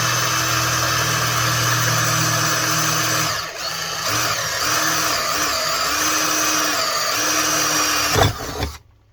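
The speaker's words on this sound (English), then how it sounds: "Put a little oil in there. That way, we're not drilling dry." A drill bores through oiled metal during engine fabrication work, a loud steady whine that holds for several seconds, wavers, then rises briefly and cuts off as the bit breaks through.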